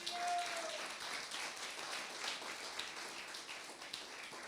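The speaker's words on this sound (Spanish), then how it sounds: "Dele un aplauso a Jesucristo." Faint congregation applause during a Spanish-language church service, steady clapping from many hands heard at a distance with no talk over it.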